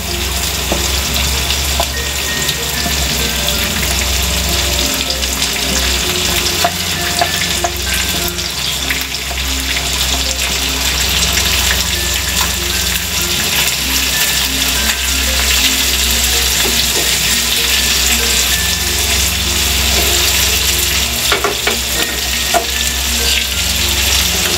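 Vegetables fry in a pan for a small sea fish curry, a loud, steady sizzle with occasional stirring scrapes throughout and no talk.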